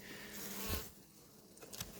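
Honeybees buzz steadily around a queen cage in a nucleus hive during a December queen introduction, a close, continuous insect drone with a brief louder swell partway through.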